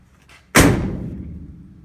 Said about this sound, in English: that's the best that door's ever closed since I've had it